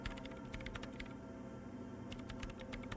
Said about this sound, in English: Sona Lokanen-Kilda presses unmute on her keyboard